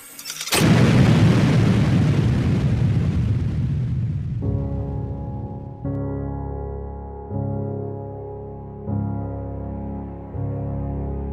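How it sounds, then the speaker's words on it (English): A homemade bomb goes off in a secluded orchard during a test: one loud, close blast with a long, rumbling decay, followed by a series of lower, droning tones. "He set up the bomb and tested it."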